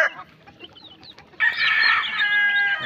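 Hungry pet chicks at feeding time, scattered soft clucks and chirps at first, then a sudden burst of loud, shrill overlapping cheeping from the flock close by.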